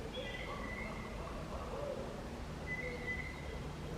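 A faint owl hooting in the distance, a couple of soft low calls over steady outdoor background noise.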